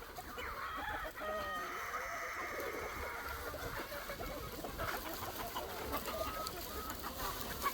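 A flock of about 100 roosters and 450 hens at a poultry farm, clucking and crowing together in a dense, continuous chorus that fills the whole stretch.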